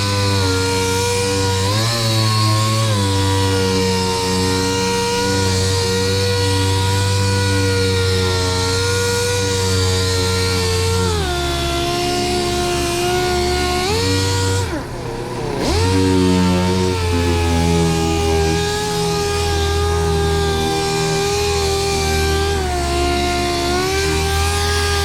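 A powered sander buzzes continuously against a car's front bumper with 600-grit paper, a loud steady droning hum that wavers slightly in pitch and dips briefly midway before resuming.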